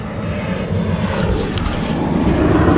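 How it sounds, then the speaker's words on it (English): A fixed-wing airplane passes overhead, its steady engine drone loud and continuous for the whole stretch, swelling slightly toward the end. "I have the planes flying all over the place, interrupting my video process."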